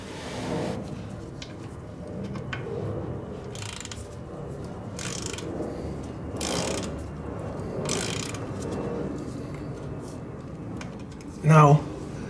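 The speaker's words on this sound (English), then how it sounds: "I'm gonna use the torque wrench, a 29 foot-pound of torque" Torque wrench tightening a bolt to 29 foot-pounds on a 2015-2019 Subaru Crosstrek/Outback transmission, giving several short ratcheting bursts spaced a second or so apart over a low steady background, then one louder sharp click near the end.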